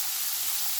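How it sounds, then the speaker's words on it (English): Green beans sauté in a pan over a low-medium flame for a South Indian dal dish, giving a soft, steady hiss of sizzling that stays even and fairly quiet throughout. "keep sauteing on a low medium flame till all the beans are cooked very well"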